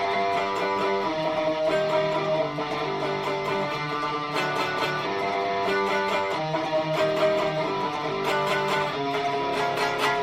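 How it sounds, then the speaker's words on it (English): Electric guitars play the verse riff, a steady, loud, distorted pattern of repeating picked notes and chords with sharp attacks throughout. "So the whole verse riff sounds like this."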